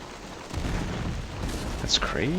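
Cannon fire in the Take Command: 2nd Manassas strategy game, heavy booms rolling through a continuous battle din with one sharper blast near the end, while someone talks over it.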